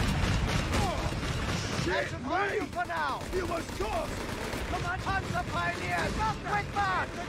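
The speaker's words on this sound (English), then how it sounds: "There's the mortar barrage coming in that I just ordered from the reconnaissance tractor" Battle din in Company of Heroes 3, where a mortar barrage comes down amid steady gunfire, a loud, dense rumble with repeated crumping blasts and whistling sweeps throughout.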